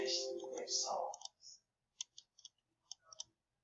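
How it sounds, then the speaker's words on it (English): A computer mouse clicking: a voice speaks first, then a handful of soft, quick clicks follow in small clusters, faint and close. "I'm going to right click the top view"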